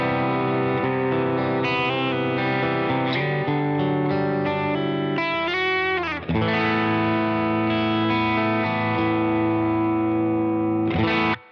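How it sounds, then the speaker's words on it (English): Electric guitar driven through a JHS Morning Glory overdrive set at edge-of-breakup, routed into a Boss RE-202 Space Echo preamp, playing sustained chords and melodic lines with a brief pause near six seconds, loud and continuous with no voices. "I've got this set up on the board then with my JHS Morning Glory on already as a kind of edge of breakup sound."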